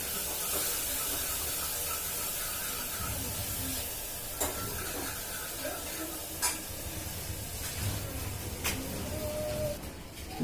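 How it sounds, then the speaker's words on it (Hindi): Tomatoes tipped into a pan of fried onion and ginger sizzle steadily, with stirring scrapes and a few sharp clinks of utensil against the pan, close and continuous throughout. "प्याज और अदरक तो मैंने भून लिया। अब डाल रही हूँ टमाटर।"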